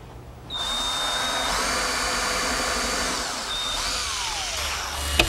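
A power drill drives screws through hardwood blocks, one steady whirring run of about five seconds with a pitch change midway and a brief pause, ending in a sharp tap.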